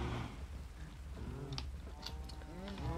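Cows mooing in a video game, several drawn-out moos overlapping in a short stretch, fairly close and clear over a low background hum.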